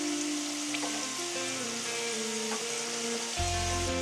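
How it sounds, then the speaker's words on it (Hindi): Semolina and mawa gujiya frying in hot refined oil, a continuous bright sizzle and crackle close by. A heavier burst of bubbling comes near the end, and no one speaks. "अब ये रिफाइंड ऑयल गर्म हो चुका है। अब हम पुड़ुकिया को इसमें डालेंगे।"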